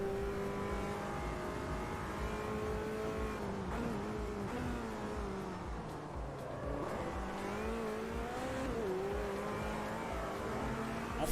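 Race cars lap in the Automobilista 2 racing sim, engines droning and shifting pitch as several cars run together at a steady, fairly quiet level with whirring tire and drivetrain noise.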